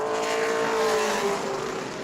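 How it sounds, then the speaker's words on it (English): Race car lapping New Smyrna Speedway during qualifying, a loud steady engine drone with a sustained high whine that holds and shifts slightly, close and continuous for the whole stretch with no talk. "There's Ben Mack in car 96 tonight"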